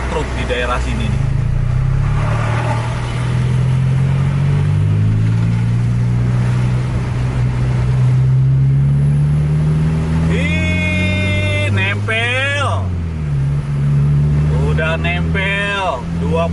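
A Scania K410 bus with a Jetbus 3 Voyager body drives a toll road at night in heavy rain, its engine droning loudly and rising in pitch as it accelerates, over a steady hiss of rain, with someone talking throughout.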